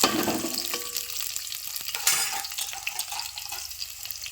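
Sliced onions dropped into hot oil with strong whole spices, sizzling and frying while being stirred, with a brief louder burst of crackle as they go in, then a steady close hiss alone.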